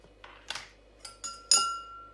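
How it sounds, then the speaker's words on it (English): Cinnamon being added to a glass for a honey drink: a handful of light glassy taps and clinks, quiet and close, ending in a brighter ringing chink. "So guys, I first add my cinnamon"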